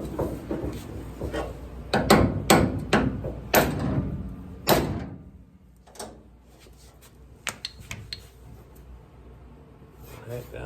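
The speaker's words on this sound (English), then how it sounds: "we'll get a little creative here with this hammer" A series of sharp metallic taps and knocks from a hammer on a Firebird car door panel, some in quick clusters, then sparser lighter hits after a pause, close by in a quiet workspace.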